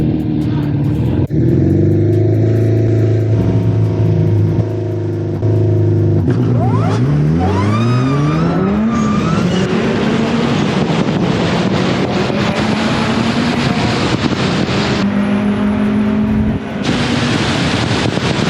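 Engines of budget-built JDM and Euro cars howl through a heads-up quarter-mile drag race, loud and steady with rising revs and gear changes under wind rumble.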